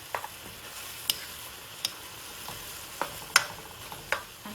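Eggs and tomatoes sizzle steadily in a stir-fry pan, a continuous hiss broken by several sharp clicks and scrapes as the mixture is stirred and broken up.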